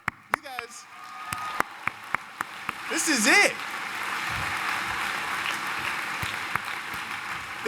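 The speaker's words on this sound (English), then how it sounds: "Clap it up. You guys." Graduates of the Carthage College class of 2014 clap at a commencement ceremony, a broad wash of applause that swells briefly and keeps going under someone speaking over a PA, with a few sharp knocks near the start.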